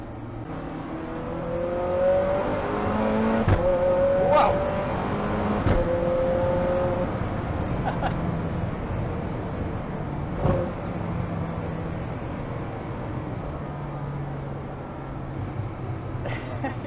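A 1177 bhp Zenvo TSR-S hypercar accelerating hard, heard inside the cabin, engine roaring and shifting, with several sharp exhaust bangs and pops; a voice briefly exclaims.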